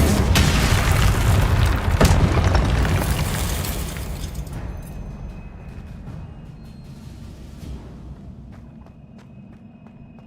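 An Incendio spell blast in the Hogwarts Legacy video game, a loud booming burst near the start that rolls on and slowly fades into quieter game ambience with a few light ticks, no talk over it.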